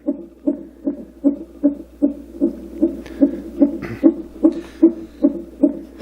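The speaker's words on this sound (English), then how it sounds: "that's a heartbeat." A Roffie white noise machine plays a heartbeat sound, a loud, close, steady lub-dub thumping repeating roughly every half second over a faint low hum.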